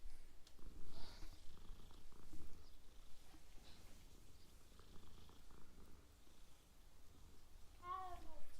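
A cat in a wizard-world video game purs softly and steadily while being petted, faint and close, with a short meow near the end.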